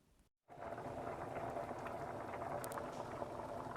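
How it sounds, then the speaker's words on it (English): Lentils and rice boiling in a pot of water on a stove in a hot kitchen, a dense, steady bubbling hiss that starts abruptly after a brief gap and continues close and even throughout. "we're going to boil those up in a pot with some water for 45 minutes"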